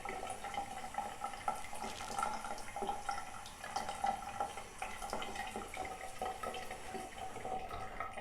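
Water is poured onto a potted plant and drains out through the bottom of the pot, making a soft continuous trickle with small drips and splashes at close range.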